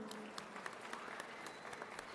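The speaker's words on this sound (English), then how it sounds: "Let us give them all a heartfelt round of applause" An audience at a charter school graduation ceremony in Brockton applauds, a faint, steady patter of many clapping hands with a few sharper claps standing out.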